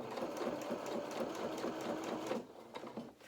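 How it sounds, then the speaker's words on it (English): A sewing machine runs steadily, stitching a seam in anorak fabric, a close, continuous mechanical whir that stops briefly near the end. "we're going to roll the fabric towards us as we sew"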